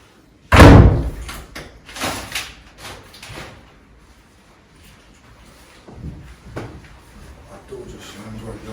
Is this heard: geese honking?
no